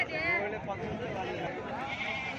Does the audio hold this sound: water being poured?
no